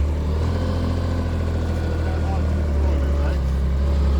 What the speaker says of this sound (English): showed you the dumper driving and working, so let's go and tip that.